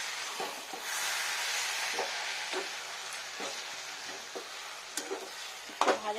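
Boneless chicken and mixed vegetables fry in a pan, turned over with a spatula: a continuous soft sizzle broken by repeated scraping strokes and a few sharper clinks near the end.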